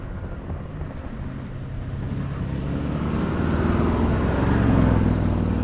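A 2022 Audi RSQ8 engine gives a deep, smooth drone that swells steadily louder over several seconds, heard alone without talk.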